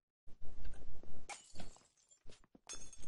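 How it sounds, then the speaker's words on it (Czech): Glowstone blocks being broken in Minecraft, several short crunchy glassy shattering bursts in quick succession with quiet gaps between them, fairly faint. "Proč ten glowstone nemá vlastní zvuk toho rozbíjení?"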